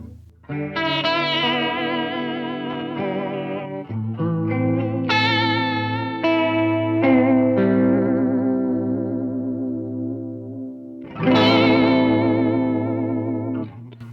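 Electric guitar notes and chords soaked in a heavy, warbling chorus pedal at its most extreme setting, wobbling deeply in pitch, with sustained swells and no voices.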